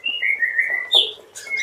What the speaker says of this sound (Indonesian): anak burung parkit Australia